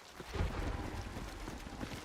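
Heavy rain pours in the video game Hunt: Showdown, a dense, steady hiss with a low rumble beneath it, continuous and fairly loud for the whole short stretch.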